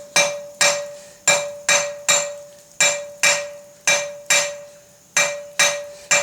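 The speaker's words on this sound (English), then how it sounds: "keeping this slightly off the anvil, and also hitting with an angled blow" Hammer blows on a metal bar resting slightly off an anvil edge, struck at an angle to draw a taper; about ten sharp ringing strikes in a steady rhythm, close and loud, each ringing on with a sustained metallic tone.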